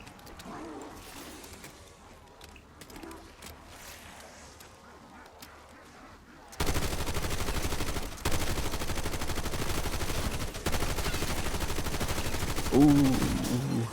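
A gun fires in a zombies game mode, starting as quiet, scattered sounds and then breaking into a loud, continuous stream of rapid shots for the second half.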